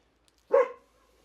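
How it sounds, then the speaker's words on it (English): A single short dog bark, fairly close and clear, followed by quiet. "dog's barking."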